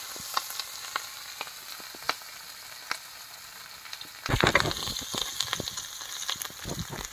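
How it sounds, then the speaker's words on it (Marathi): Fish fries in a pan, first as a gentle sizzle with scattered sharp pops, then bursting into a louder, busier crackle partway through with sputtering spits. "हा मासा एकदम फ्राय भारी होतो."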